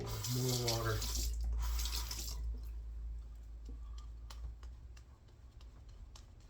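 Water runs from a tap during shaving-soap lathering, a loud gushing stream for the first few seconds that cuts off, followed by quieter clicks and handling sounds.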